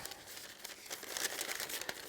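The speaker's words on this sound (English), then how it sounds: "So again, I'll use baking paper to lay over the bars and the clamps." Baking paper crinkles continuously up close as it is laid over metal bars and clamps for a glue-up, a busy, papery rustle with small crackling peaks and no talking.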